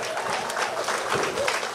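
Audience at a union-hosted public policy breakfast forum in San Fernando applauds in a short, fairly dense burst of clapping, mid-level in loudness, with a few voices mixed in.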